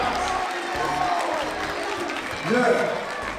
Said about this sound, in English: let's give our teachers a big round of applause.